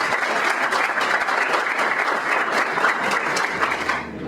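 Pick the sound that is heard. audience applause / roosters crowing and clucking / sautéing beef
audience applause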